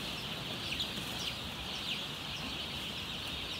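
Chicks on a farm peeping softly and steadily at a distance, with faint high calls over a constant low background hum and no talking.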